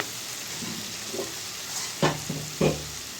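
Potatoes and flat beans fry in a pan, giving a steady, close sizzle throughout, broken by a few clunks of a spoon stirring against the pan near the end.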